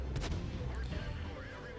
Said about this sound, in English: If I just can put one more shell into him.